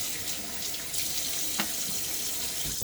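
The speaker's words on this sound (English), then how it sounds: "I'm going to wet my face one more time" Tap water runs steadily into a sink as a man wets his face before a shave with a Gillette Tech Hybrid safety razor, a continuous close splashing hiss with a few louder spatters and no talking.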